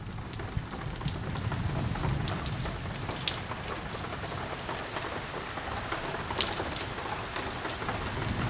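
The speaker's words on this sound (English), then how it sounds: "Okay, the rain is coming down harder." Heavy rain pours steadily during a summer lightning storm, a dense close hiss of drops striking surfaces with scattered louder splats and a faint low rumble beneath, no voices.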